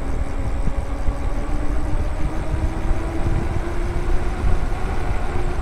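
Graffiti X motorcycle engine running steadily at close range, a smooth, even mid-pitched hum lasting a few seconds with no speech over it.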